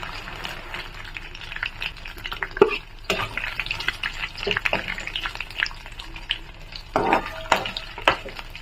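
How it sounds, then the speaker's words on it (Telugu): Garlic, green chillies and cumin frying in oil in a kadai, with a soft continuous sizzle under repeated scraping and stirring clatter from a spoon against the pan, close by. "ఇప్పుడు మనం ఎల్లుల్లిపాయ పచ్చిమిరపకాయ జీలకర్ర ఫ్రై అయిపోయినాయి"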